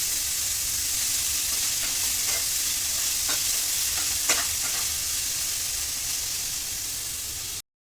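Vegetables for veg biryani fry in a pan with a steady, close hissing sizzle and a few soft crackles, ending in a brief cut to silence.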